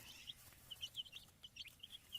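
Young chicks kept in a warm garden bed, chirping in quick, high, faint peeps scattered irregularly over a quiet background, with no talk.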